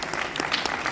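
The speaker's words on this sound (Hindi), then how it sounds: "तालियां एक बार जोर से।" Loud applause from a seated audience at a retirement ceremony at IVRI Bareilly, a dense steady wash of many hands clapping with no break.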